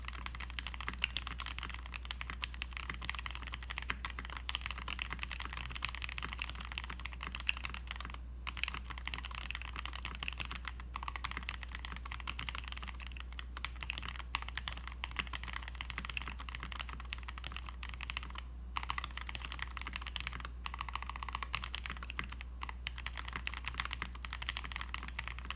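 Rapid, steady typing on a Skeleton 60 mechanical keyboard fills the clip with dense clacking keystrokes and occasional heavier thumps, heard close over a constant low hum, with no talking.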